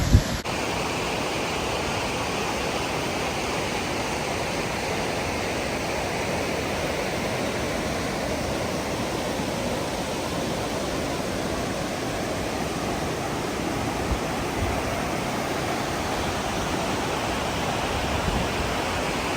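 Sols Creek Falls near Bear Creek Lake, North Carolina, roars in a steady, dense rush of falling water that holds evenly from start to finish with no voices.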